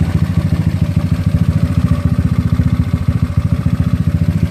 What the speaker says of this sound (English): Engine looked like it's idling down.